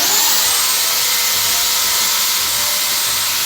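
Plastic coconut domes being sanded, a steady continuous abrasive whir that holds loud and close without pause before cutting off at the end.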